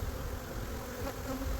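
Honey bees buzzing inside a wooden nuc box, a dense, continuous, fairly faint hum of many insects close at hand, with no speech.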